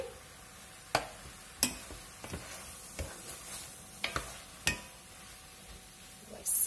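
Mushrooms seasoned with pepper being stirred in a pan, a faint low sizzle punctuated by several sharp spoon taps and scrapes at irregular intervals, with one brief spoken word.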